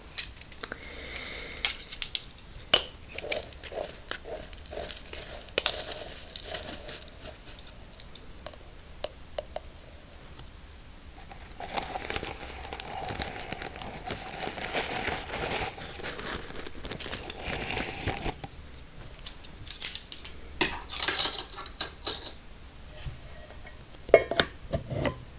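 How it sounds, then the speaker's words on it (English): Metal spoons clack and tap while scooping loose Lady Grey tea in a quiet close-up setting, giving irregular sharp clicks with soft rustling and crinkling between them, with no talking. "I brought my spoons again because they're kind of nice clacky clack sound."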